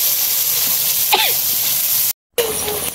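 Eggplant and potato pieces drop into hot oil in a pan, giving a steady loud sizzling hiss that briefly cuts out and then resumes.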